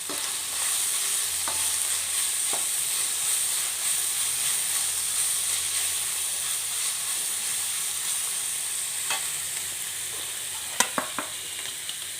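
Onion and grated coconut stir-frying with salt in a pan, a steady close hiss of sizzling with a few sharp scrapes and taps from a spatula, including a louder clack near the end; no talking.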